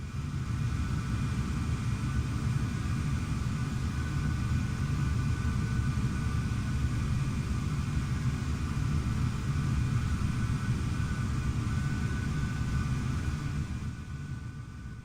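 Steady exterior jet engine roar of a CSS 737-500 airliner in Microsoft Flight Simulator, a continuous low rumble with a faint whine held at even loudness throughout, with no voices over it.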